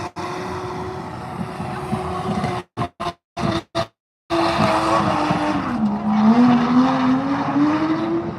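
A race car at an Autumn Matsuri 2025 event on the Minami course, after a wall tap, roars loudly and continuously with squealing tires and a rising, sliding engine tone, broken by a few short dropouts.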